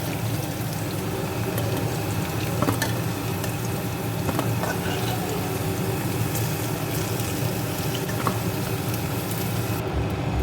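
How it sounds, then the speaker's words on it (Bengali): Potato pieces fry in hot oil for a jackfruit curry. A steady, fairly loud sizzling hiss runs without a break, with a few faint clinks and pops scattered through it. "আলুটাও খুব সুন্দর করে একটু ভাজা হয়ে গেছে"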